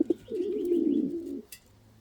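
An Indian fantail pigeon coos in one sustained, wavering call of about a second, close and fairly loud, with a couple of short notes before it and quiet afterward.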